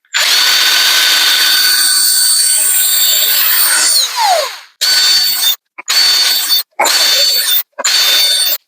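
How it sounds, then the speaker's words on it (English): An electric drill spins a round file to sharpen chainsaw teeth at a ranch, giving a loud, close, high whine: one long run of about four seconds, then four short bursts with brief silences between them. "it's just about as simple as putting the drill and the file in the right tooth"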